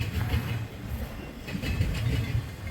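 A short Norfolk Southern train rolls slowly past the Attica derailment site on repaired track, a close steady rumble with rhythmic wheel clacks over the joints.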